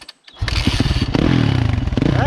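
A 1999 Honda CR 125 two-stroke motorcycle is kicked into life after a brief silence, catching and then running with a loud, rapid, rattling idle close by.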